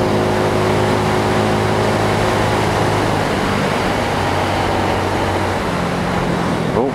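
A Mutt Mongrel 250 motorcycle engine drones loudly and steadily from the rider's position, its tone sinking slightly as the bike slows, with strong wind rush over it throughout.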